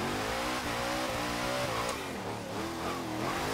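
A powerful car engine revving hard under acceleration, a loud sustained roar with rising and shifting pitch and no voices over it.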